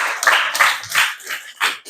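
A small class claps for a student after her answer, a few scattered, uneven bursts of hand clapping, close and fairly loud, fading in and out over two seconds.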